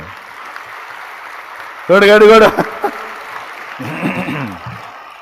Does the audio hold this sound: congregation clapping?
yes